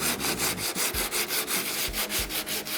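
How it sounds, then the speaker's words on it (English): Steady back-and-forth rasp of coarse sandpaper on a sanding block scrubbing hard car body filler, rhythmic strokes about three per second, close and continuous. "Using the coarse grit paper wrapped around a sanding board or sanding block"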